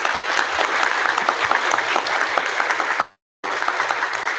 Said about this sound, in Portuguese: Uma salva de palmas, pessoal, por favor.